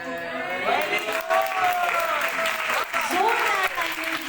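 Crowd at a children's worship conference in Rawalpindi applauding loudly and steadily, with voices speaking and calling out over the clapping.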